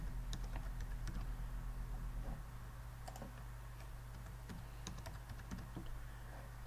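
Rapid keystrokes of a password typed on a computer keyboard, a steady run of light clicks over a low constant hum, with no talking.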